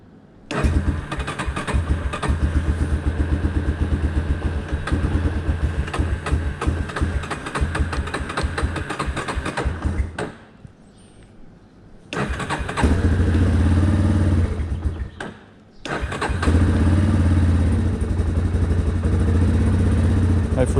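A racing motorcycle engine fires up and runs loud and close with a rough mechanical clatter, cuts out, then restarts twice into steady idling with the choke being worked.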